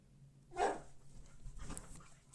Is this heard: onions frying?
no